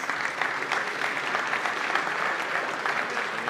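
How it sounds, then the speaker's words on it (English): Dense, steady applause from an audience at a basketball awards ceremony, loud and sustained throughout with no voices over it. "Round of applause, please."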